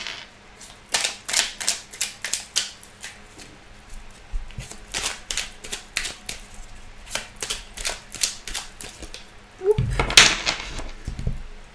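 Tarot cards being shuffled by hand, a run of crisp riffling and flicking bursts repeating at a steady pace, close and clear, with one louder shuffle near the end.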